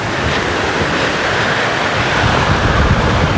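Wind buffeting the microphone at a high waterfall viewpoint in New Zealand, a loud, constant roaring rush with no voices and no breaks.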